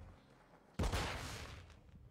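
A single sharp blast of gunfire strikes at close range, its loud broadband burst trailing off over about a second of echo and rumble amid the chaos of a firefight with smoke nearby.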